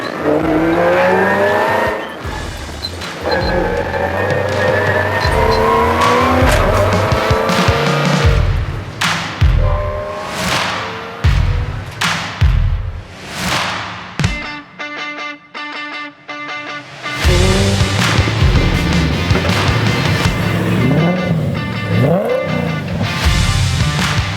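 A Revo race car roars loudly, engine revs rising and falling through gear changes, with a brief quieter lull before the engine surges again.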